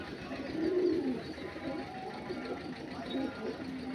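Andhra pigeons cooing in a loft where birds are kept for sale, a low soft coo rising near the start and again toward the end over steady background noise and a talking voice.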